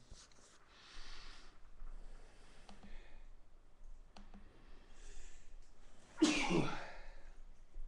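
A single loud, sharp sneeze bursts out near the end, following quieter background rustling and faint murmuring.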